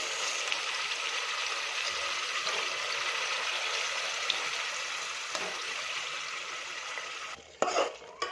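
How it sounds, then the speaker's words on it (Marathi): Ground masala fries in hot oil for a spicy chicken rassa, giving a steady, loud, close sizzle that holds evenly for several seconds before a few brief knocks at the end. "आता मसाला तेलामध्ये टाकायचा आपल्याला"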